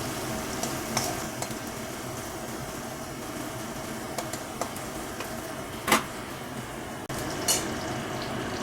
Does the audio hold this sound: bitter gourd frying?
yes